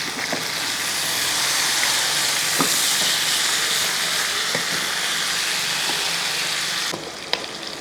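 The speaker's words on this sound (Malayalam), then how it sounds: "നമ്മുടെ ഇഷ്ടത്തിന് തിരിച്ച് മറിച്ചൊക്കെ ഇട്ട് ഫ്രൈ ആക്കി എടുക്കണം" Fish fries in hot oil in a pan over a medium flame, giving a loud, steady sizzle and hiss throughout with a few faint clicks, and the sizzle dips slightly near the end.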